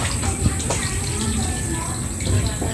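Water is poured out of a container holding catfish being cleaned, a rushing, splashing flow that runs steadily throughout, close and fairly loud.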